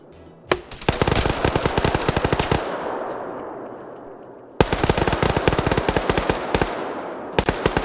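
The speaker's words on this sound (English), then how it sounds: "Suppressive fire coming out from that mini-me." Bursts of machine gun fire from a Tarkov-themed military video game, sharp rapid cracks in two long volleys separated by a brief lull, loud and close with no talk over them.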